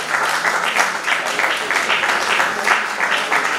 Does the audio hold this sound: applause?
yes